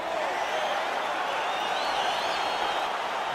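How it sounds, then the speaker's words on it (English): Arena crowd cheering in a UFC heavyweight fight on PS5, a steady, dense roar of voices and applause that holds evenly throughout, with no talk over it. "crowd getting excited as this fight gets underway"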